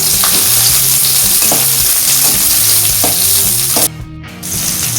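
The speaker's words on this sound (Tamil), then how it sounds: "இப்போ வெங்காயம் பொன்னிறமா வர்ற வரைக்கும் வதக்கணும்" Sliced large onions frying in hot oil in a pan, a steady close sizzle with repeated scraping stirs of a spoon, the sizzle briefly dropping near the end as the pan is disturbed.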